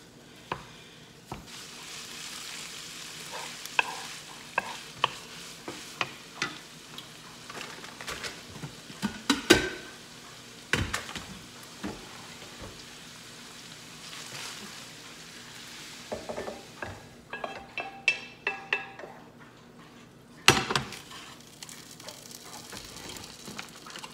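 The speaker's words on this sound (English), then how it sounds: "If you guys don't have one of these mix-and chops, you're missing out because they make browning meat super easy." Ground meat browns in a pan while a mix-and-chop tool breaks it apart, giving a steady sizzle with repeated scraping and tapping strokes close by, sharp clacks now and then.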